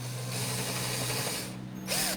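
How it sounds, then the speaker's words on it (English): A power drill bores shallow pilot holes into a wooden board, a steady close whir with a brief change in pitch as the bit goes in and backs out. "So I'm going to use this drill and do a little pilot holes right where those pencil marks are"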